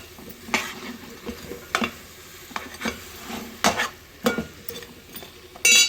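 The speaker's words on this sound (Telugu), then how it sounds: "ఇప్పుడు బాగా ఇవన్నీ ఆయిల్ పైకి వచ్చే వరకు బాగా ఎర్రగా వేగాలండి" Mushrooms, potatoes and carrots fry in oil while a spoon stirs and scrapes the pan, with a steady low sizzle broken by repeated clinks and knocks of the utensil against the pan.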